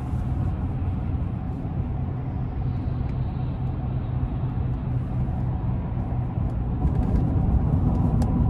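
A full-size truck cruises at relaxed speed, a steady low rumble of engine and road noise heard from inside the cab, continuous and even with no sharp events.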